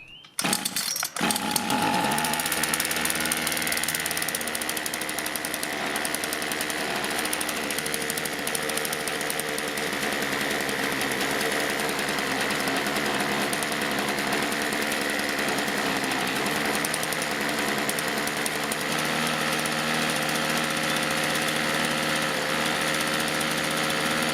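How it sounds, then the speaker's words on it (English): A small petrol engine runs a generator after a choke start, sputtering briefly then settling into a loud, steady, buzzing drone that holds for over twenty seconds with no voices. "With the engine now running and producing electricity, I thought I'd try and charge my phone."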